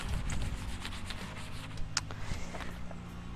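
A scuff pad rubs back and forth over motorcycle fairing parts being prepped for paint, giving soft, close scratchy strokes in an irregular rhythm with a few brief clicks.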